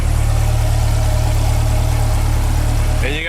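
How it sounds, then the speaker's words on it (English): The engine of a 2020 C8 Corvette idles up close, a loud steady low rumble that runs without a break until a brief sharp tonal sweep right at the end. "And you got the engine right there, just purred away."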